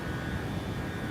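Airplane engine in Microsoft Flight Simulator 2020 after takeoff, a steady broadband droning rumble, constant and fairly loud with no voices.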